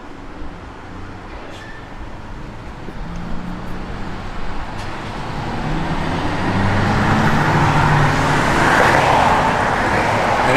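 A 1967 Ford Fairlane GT with a 428 engine and a four-speed top-loader manual gearbox driving, the engine and road noise building steadily from a moderate hum to a louder rush as it accelerates.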